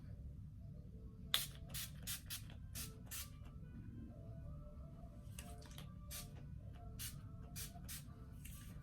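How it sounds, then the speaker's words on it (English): Quick hissing spritzes of makeup setting spray, several short bursts in uneven clusters, close but soft over a low background hum. "So I'm gonna go ahead and spray a little."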